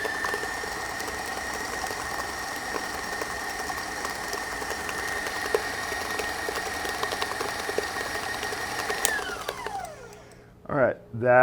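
An electric mixer on low speed beats powdered sugar into a cake frosting with a steady whirring hum, then shuts off near the end, followed by a few short clunks.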